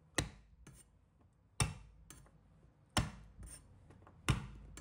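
A kitchen knife chopping crushed garlic on a cutting board: four sharp, evenly spaced chops about a second and a half apart, close and quiet with near silence between strikes.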